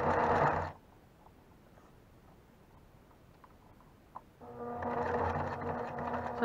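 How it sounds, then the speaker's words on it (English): A sewing machine stitches vinyl in two short bursts of rapid, close mechanical whirring, separated by a few seconds of quiet with a faint tick in between, no voices. "Keep sewing."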